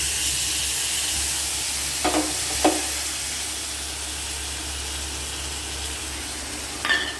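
A steady sizzling hiss of seeds frying in a hot pan, with a few brief stirring scrapes and clinks breaking through.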